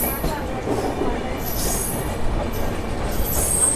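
A train pulls into Nellore railway station in steady rumbling rolling noise, with high wheel squeal and hiss on top, loud and close, under faint background voices.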